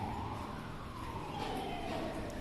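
A vehicle engine is held at full throttle, a steady loud roar with a slowly gliding whine riding on top, continuous and close for the whole moment.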